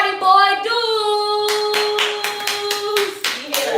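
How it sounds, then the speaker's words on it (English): An audience claps for an interview guest being introduced, with a steady patter of hand claps building under a sustained musical tone, close and moderately loud. "give a big round of applause for my guest today"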